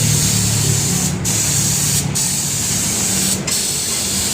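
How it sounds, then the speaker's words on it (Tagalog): Steady loud hiss of a paint sprayer laying primer on a steel deck at a riverside construction site, with three brief dips where the spray cuts off. "pati pagpipintura ng steel deck"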